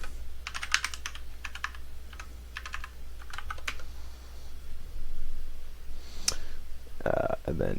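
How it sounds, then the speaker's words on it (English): A password is typed on a computer keyboard as a few quick clusters of close, crisp key clicks over a low steady hum. Later comes a single sharp tap and a brief squeaky sound. "You can click download, type in your password,"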